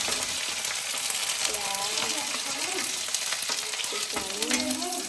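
Garlic, onion and dalle chillies sizzle loudly in hot oil for Nepali achar, with constant crackling frying and the scrape of stirring throughout, close up with no talk.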